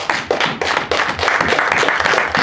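A church congregation claps steadily together in praise of God, brisk rhythmic handclaps at an even quick pace, close and full, with no voices standing out.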